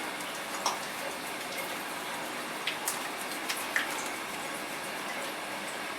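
Water runs steadily at a sink during a surgical hand scrub, rinsing from fingertips to elbows, a soft continuous splashing with a few faint drips and knocks.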